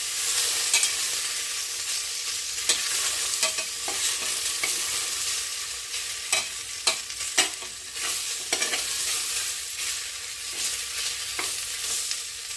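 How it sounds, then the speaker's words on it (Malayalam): Sliced potatoes frying in a pan while a spatula stirs them, with a steady sizzle broken by repeated scraping strokes. The stirring is close and moderately loud, and no one speaks. "നന്നായി ഇളക്കി കൊടുക്കാം."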